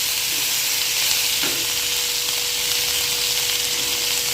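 Onions sauté with a little salt in a pan for a prawn gravy, giving an even, continuous close sizzle with a couple of faint stirring taps and no voices.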